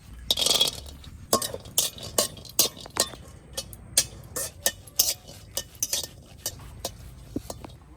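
Cashew nuts fry in a pan while a metal spatula stirs them, giving sharp, irregular clinks and scraping taps against the pan at close range.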